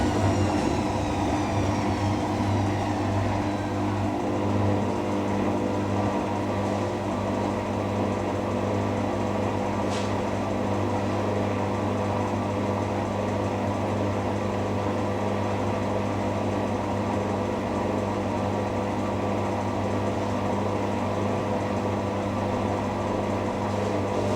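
A Hotpoint WD64 Aquarius washer dryer hums and rumbles steadily through a hot cotton wash, a continuous close drone with a faint rhythmic chugging from the turning drum and no talk.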